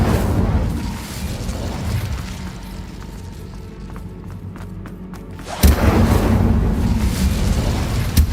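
Incendio fire spell cast in Hogwarts Legacy: a whooshing burst of flame then a loud, close, roaring blast that rumbles on, after a quieter stretch with light clicking effects.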